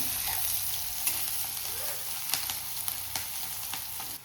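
Chopped onion fries in a pan with a steady close sizzle, broken by a few sharp scraping clicks as a spoon stirs it, and no voices.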